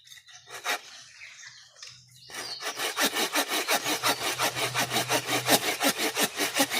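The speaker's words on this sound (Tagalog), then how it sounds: "Mabilis na ito maputol kasi di rin malaki yung puno." A small hand saw rasps back and forth through the trunk of a small tree in quick, steady strokes after a few hesitant starts, close up, with no talking.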